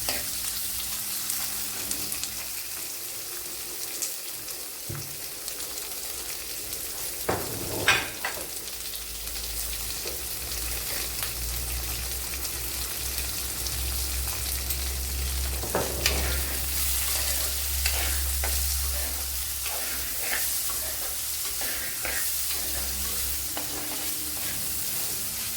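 Sliced onions fry in a pan after salt is added for a netholi (anchovy) dish, a steady close sizzle broken by scraping stirs and a few sharp clinks of the spoon against the pan.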